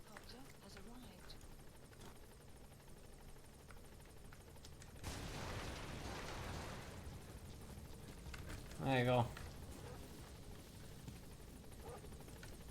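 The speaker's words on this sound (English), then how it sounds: "Support helicopter has arrived." A support helicopter in Metal Gear Solid 5: The Phantom Pain arrives with a steady, moderately distant rotor drone. A short burst of gunfire and a few spoken words break in partway through.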